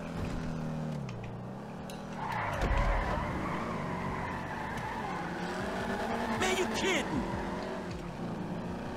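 A car drifts in GTA 5, its engine droning steadily as a tire skid scrapes through the middle stretch, with a voice talking over it.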